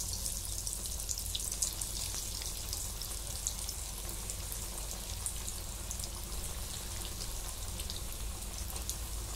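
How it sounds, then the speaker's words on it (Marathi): Cheese balls deep-frying in hot oil in a kadai over a low gas flame, giving a soft, steady sizzle and crackle of bubbling oil that continues evenly and faintly throughout, with no talking. "आता बारीक गॅसवरती याला तळून घेते"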